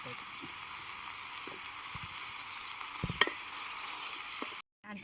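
Village-style chicken curry sizzling steadily in a pan as it is stirred, with a few soft scraping knocks near the middle, before cutting off abruptly at the end.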